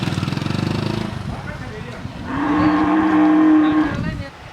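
A young calf moos in a garden in India, a drawn-out bellow rising in the second half over a low engine-like rumble and background noise.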